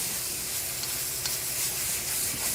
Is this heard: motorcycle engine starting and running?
no